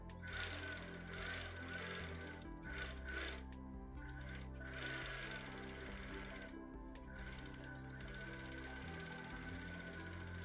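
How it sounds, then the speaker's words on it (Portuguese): A domestic sewing machine runs a long continuous seam across bedsheet fabric being made into a shirt, its steady mechanical stitching hum close and fairly loud, broken by a few brief pauses between runs. "você vai passar uma costura de fora a fora como se estivesse fazendo uma costura normal."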